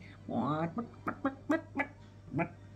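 A woman imitates a clucking hen with her voice, making a drawn-out squawk followed by a run of short, rhythmic clucks, close and clear.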